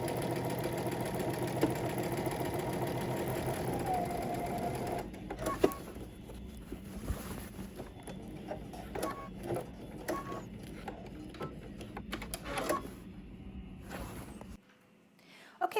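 Sewing machine doing top stitching on a garment, a steady mechanical whirring for several seconds that then gives way to intermittent clicks and handling noises before it stops, with a voice talking at times.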